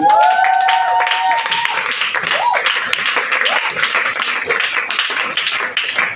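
A church congregation claps and cheers in a dense, continuous wave of applause with a few shouts and a sustained vocal tone at the start, loud and close throughout.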